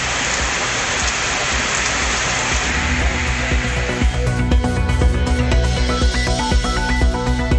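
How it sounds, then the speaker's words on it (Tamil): Heavy rain pouring down in Thondamuthur, Coimbatore, a dense steady hiss of drops drumming on surfaces close by, continuous throughout with no voices. "கோவை தொண்டாமுத்தூரில் கனமழை."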